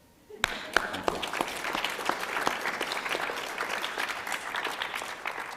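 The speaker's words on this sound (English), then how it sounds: "Let's give ourselves a round of applause" A seated audience breaks into applause after a recap and review session, sudden onset then sustained dense clapping from many hands, close and steady to the end.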